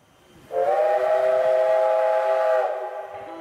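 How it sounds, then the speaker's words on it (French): Steam whistle of the 1930s C11-171 locomotive arriving on a Japanese winter line, a single sustained tonal blast of about two seconds heard from some distance, swelling in and fading with a resonant tail. "Tout le monde se prépare pour l'arrivée de la loco, et on l'entend résonner au loin."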